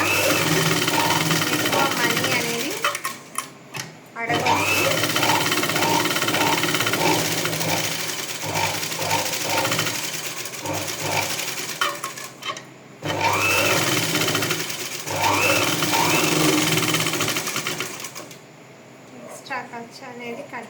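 A sewing machine stitching piping onto a blouse front, loud close rapid mechanical whirring in long runs broken by short stops, with a voice talking over it.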